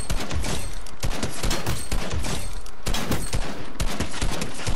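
Rapid continuous gunfire in Fortnite, dense overlapping shots at a steady fast rhythm, loud and close throughout with no talking.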